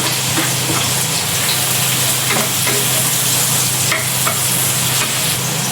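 Garlic and onions sizzling steadily in hot butter in a pan, a loud continuous close-up crackle with faint stirring scrapes and no voices.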